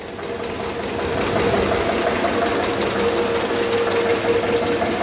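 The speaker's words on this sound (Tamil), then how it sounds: "ஸோ இன்ஜின் ஸ்பீடாக ரன் ஆக ஆரம்பிச்சிருச்சு" An IC engine on a test bench in a lab runs steadily just after starting, a loud continuous mechanical drone with a rapid rattling pulse that rises slightly in level after the first second and then holds even.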